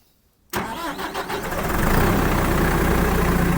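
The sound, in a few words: tractor diesel engine starting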